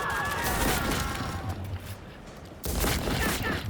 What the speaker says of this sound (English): Oh no, they're shooting me.